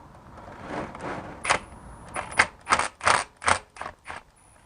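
Transmission filter bolts being loosened with a ratchet under a BMW E46 automatic, a ZF 5HP19, a quick run of close clicking mechanical bursts, loud and alone after a soft rustle.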